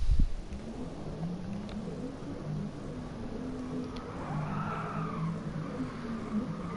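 Tyres skid and scrub under a steady engine drone as a rear-heavy Porsche slides in a GT Sport racing game replay, a continuous mid-level rumble with a brief rising squeal toward the end.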